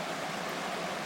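A flowing spring-fed stream in a wooded area near Rockwood with beaver damming, a steady soft rushing wash of water, close and continuous.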